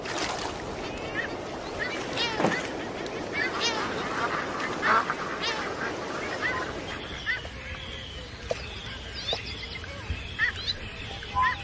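Many seabirds calling along the Alaskan coast in summer, a busy overlapping chorus of honking and squawking cries at moderate distance, thinning out in the second half with scattered calls over a low background.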